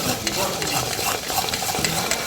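Semolina cake batter with baking powder, baking soda and a little water is stirred briskly in a bowl. It makes a continuous wet, scraping swish with small repeated strokes, close up and steady.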